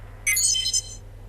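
Points award for a kiss in a falling video game: a brief, bright, high-pitched chime jingle of a few quick notes, heard alone over a faint background hum.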